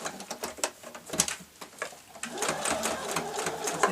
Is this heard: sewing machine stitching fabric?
yes